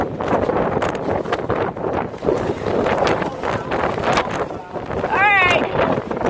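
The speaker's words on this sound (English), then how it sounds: "if the wind is too loud, we're sorry" Strong storm wind buffeting an outdoor microphone in a constant loud roar and rumble, with people talking underneath.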